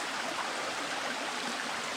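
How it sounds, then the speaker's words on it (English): Steady broadband rushing of flowing water from a small creek, continuous and fairly close, with no voices. "There's a little creek."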